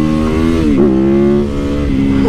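A motorcycle engine revs hard as the throttle is cranked, rising and falling in sharp pitch sweeps over a steady, loud close-up idle drone, with no talking.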